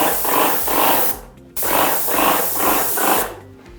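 A Wagner Control 150M airless paint sprayer throws a steady, close hiss that pulses in rhythmic surges. It cuts out briefly partway through, then resumes and stops again at the end.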